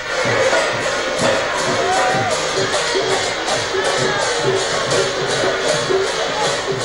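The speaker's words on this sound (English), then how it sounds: "Huge crowds greeted him." A huge crowd greets PM Modi outside a nearly 1,000-year-old Shiva temple in Gujarat, with steady loud crowd noise, scattered cheers and whoops, and overlapping voices.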